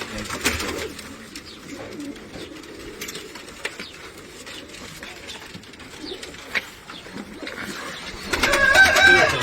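Pigeons in a coop cooing and fluttering close by, soft repeated coos and rustling with occasional sharper calls, rising to a louder flurry near the end, with faint voices in the background.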